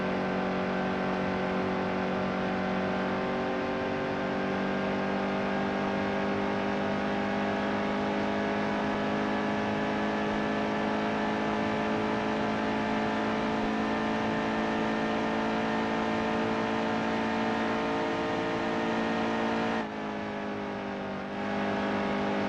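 A race car engine in the video game NASCAR Heat 2 drones steadily at high revs, a close, continuous whine that briefly dips and shifts near the end.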